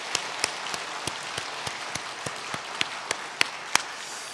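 Sparse, sharp claps ring out one at a time in a quiet church sanctuary as a few congregation members applaud the choir, roughly a dozen evenly spaced hand claps over a few seconds with no crowd swell.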